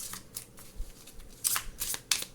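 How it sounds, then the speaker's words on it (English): A deck of tarot cards is shuffled and drawn close by, giving quick papery riffles and snaps in short bursts. "So let's pull more cards to see what this is going to be about."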